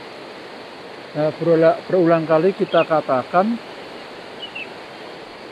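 The Sungai Lampir river in Kota Batu rushes with a steady, even hiss that runs throughout. Someone talks over the flowing water for part of the time.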